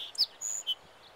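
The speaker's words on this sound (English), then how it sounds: "Today it's little bird tweet tweet day." A small bird sings on a beach in the morning, giving a few short, high, bright chirps and a brief whistled note, fairly close and clear over faint quiet background.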